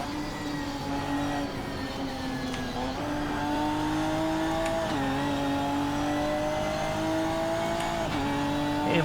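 A Ginetta GT4 race car engine in the Assetto Corsa racing sim revs hard and steady, with rising pitch sweeps and sharp drops at each gear change, loud and continuous with no talk.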